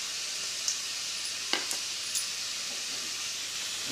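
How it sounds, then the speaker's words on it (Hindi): Garlic cloves sizzle in hot oil in a pan with a steady, bright hiss, broken by a few short clinks of a spoon against the pan; no one talks. "इस तरह से लहसुन की कलियां डाल के इसे हम 1 सेकंड तक थोड़ा सा फ्राई कर लेते हैं"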